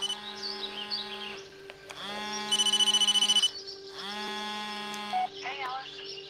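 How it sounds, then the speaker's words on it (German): A telephone rings in the Blair Witch VR game, sounding in repeated trilling bursts with short gaps between them, close and clear, under a low steady background tone and some faint chirping game ambience. "Das Telefon klingelt."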